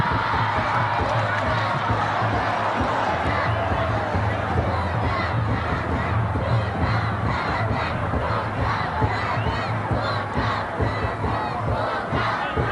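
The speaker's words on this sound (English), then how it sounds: "The Bhutanese crowd is out with drums and balloons, and I mean it's crazy here" A Bhutanese crowd roars and chants nonstop at a World Cup qualifier football match against Sri Lanka, a dense, loud wall of cheering with drum beats pulsing underneath.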